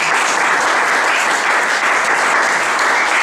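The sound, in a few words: congregation applause acclaiming the Lord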